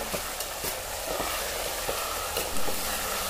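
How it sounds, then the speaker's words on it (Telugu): Curry leaves, dried red chilli pieces and tomato pieces hit hot oil in a frying pan, giving a steady broadband sizzle with soft stirring scrapes and a louder burst near the end. "వెంటనే కరివేపాకు మరియు టమోటా ముక్కలు వేసి కలుపుకోవాలి"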